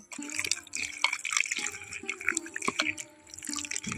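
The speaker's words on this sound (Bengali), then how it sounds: "এখন কিন্তু আমি জল দিয়ে বেলটাকে মেখে নেব" Water is worked by hand into wood apple pulp in a village kitchen, giving close, wet squelching and sloshing in irregular bursts with small drips, fairly near and alone.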